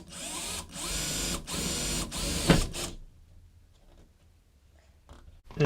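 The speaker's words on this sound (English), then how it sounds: "Grab your drill with a 4mm drill bit" A power drill with a 4mm bit drives a screw into the frame of a sliding window while fitting a Whitco push lock, whirring loudly in several short bursts that stop partway through, followed by quiet handling noises.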